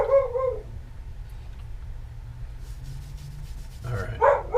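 A dog barks in short bursts nearby at the start and again near the end, with a low steady hum underneath and quiet gaps between the barks.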